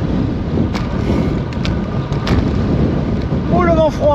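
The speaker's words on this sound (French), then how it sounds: "Oh, le vent froid!" Cold wind buffets the microphone of a cyclist riding over cobbled roads and a first climb, a steady loud roaring rush with gusty swells that covers the whole stretch and has no clear talk.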